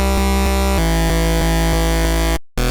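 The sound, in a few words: Serum synth oscillators pitched to form seventh-like chord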